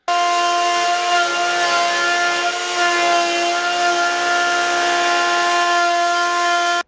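A power saw whines steadily through 21–22mm thick wood, cutting a juice groove, a loud continuous high-pitched cut that holds without pause from start to finish.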